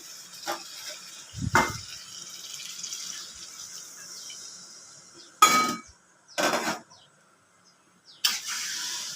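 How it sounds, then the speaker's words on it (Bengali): Water is poured into a pot of chicken curry in several separate splashy bursts, the loudest one early and three more later, with quiet kitchen background between them. "এখন পরিমাণ মতন জল দিয়ে দেবো"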